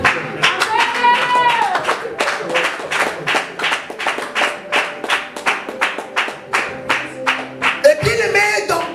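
Church congregation claps in a steady, rhythmic beat to acclaim the Lord, loud, evenly spaced claps with singing or voices at the start and end.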